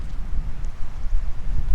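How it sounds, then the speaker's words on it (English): Strong wind gusts buffeting a Snugpak Ionosphere mesh tent with a raised fly sheet, a low rumbling roar that swells and eases in uneven surges, close and fairly loud. "wind was coming from there, like very strong gusts"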